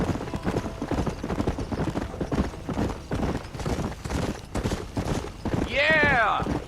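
Horse galloping in the video game Red Dead Redemption, rapid rhythmic hoofbeats under a man's dialogue, ending with a loud neigh.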